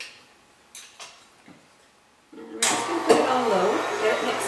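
An electric mixer blends cream cheese with milk for a strawberry tiramisu. A few soft clicks and taps in near silence give way to the mixer starting up about halfway through, a loud, steady whirring hum that runs to the end.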